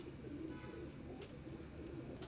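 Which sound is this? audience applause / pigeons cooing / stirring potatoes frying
pigeons cooing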